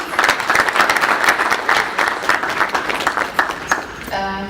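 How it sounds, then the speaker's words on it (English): An audience at a trust launch event applauds with loud, full clapping that swells and stays steady. It cuts off just before a brief tonal sound at the end. "another round of applause for her"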